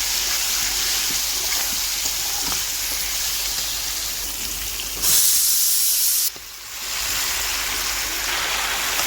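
Leafy greens with a little turmeric sizzling in a hot pan: a steady, dense hiss throughout that briefly turns brighter and harsher midway, then settles back to an even frying noise.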